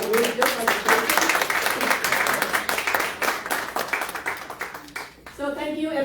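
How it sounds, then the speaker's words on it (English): A workshop audience claps for a presenter, dense steady hand-clapping filling most of the stretch before thinning out near the end, where a voice briefly begins. "another applause for Rick for doing a really good presentation."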